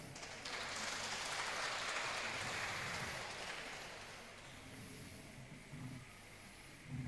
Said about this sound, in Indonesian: Tepuk tangan buat Cik Sianglan.